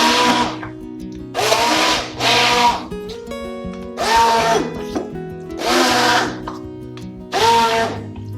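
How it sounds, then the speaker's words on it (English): An immersion blender purees cooked butternut squash in loud whirring bursts, five pulses roughly a second long with short lulls between them, close and alone. "So I like to do this with an immersion blender."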